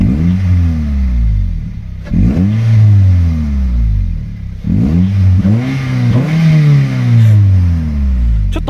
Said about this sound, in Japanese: 一応ちょっとね、怒られない程度に吹かしてみると。